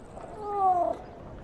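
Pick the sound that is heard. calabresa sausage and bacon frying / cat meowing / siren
cat meowing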